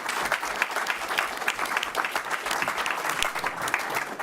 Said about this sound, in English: If we give them a round of applause to thank